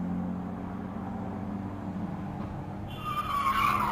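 A large diesel work truck crashes, caught on a surveillance camera: a steady vehicle rumble builds into a harsh skidding, scraping screech near the end, loud and alone with no talk.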